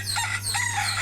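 A caged rooster crows once, close and clear, among chickens kept together in a cage, the call lasting about a second with a steady hum beneath it.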